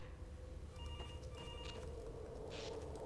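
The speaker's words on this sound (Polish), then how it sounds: "Który telefon dzwoni?" A telephone rings inside the horror game Garry's Mod: Undying, a repeated electronic bell trill coming in bursts over a low, humming ambient drone, fairly faint with no talking.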